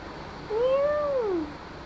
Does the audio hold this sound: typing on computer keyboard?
no